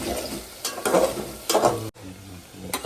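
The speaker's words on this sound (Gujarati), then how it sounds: "ડુંગળીનો કલર છે ને થોડો બ્રાઉન થઈ ગયો આવી રીતે હલાવતું રહેવાનું" Browning onions sizzle in a pan for dal fry while a spoon stirs them in a few rough scraping bursts, close and moderately loud.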